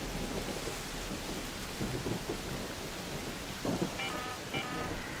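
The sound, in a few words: thunder of electromagnetic storm in ARK Raiders video game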